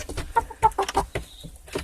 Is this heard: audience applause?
no